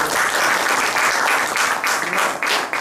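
A lecture audience applauds, a sustained, fairly loud patter of many hands clapping that rises and falls slightly over its length, with no talk above it.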